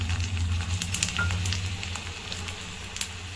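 Peanuts, cashews, curry leaves and green chili sautéing in hot oil for a Tamil okra dish: a steady close sizzle with light crackles and occasional stirring.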